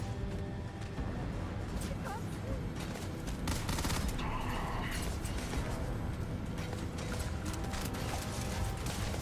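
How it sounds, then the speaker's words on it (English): Dense, continuous gunfire and ricocheting bullets in a Starfield firefight, with clanking mechanical clatter layered over a steady roar and a voice talking intermittently underneath. "I don't like all these bullets flying near that thing"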